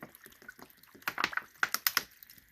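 Bottled water is poured over purple sea moss in a container, a run of irregular splashes and drips that grow louder and splashier partway through.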